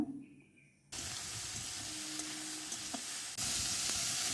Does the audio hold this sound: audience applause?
no